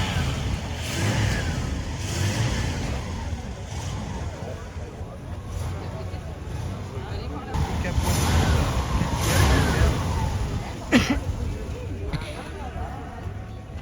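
A Cadillac with a big 8.2-litre engine rumbles past at a vintage car gathering in Triel. The deep engine sound swells and fades gradually amid outdoor background noise and faint voices.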